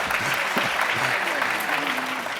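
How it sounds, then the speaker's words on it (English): A convocation audience in a large hall claps steadily, a dense, even wash of applause with a faint voice and low hum underneath. "Plenty of opportunity for applause."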